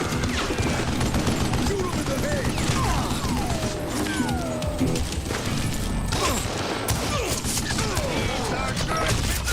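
Gunshots in the Western shooter Call of Juarez: Gunslinger, a busy volley of loud, close firing mixed with game effects, with a voice talking over it throughout.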